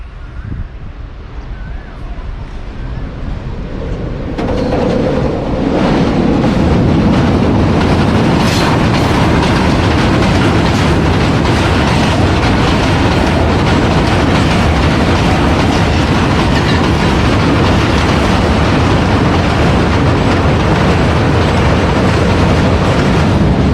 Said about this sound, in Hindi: 14 डाउन अवाम एक्सप्रेस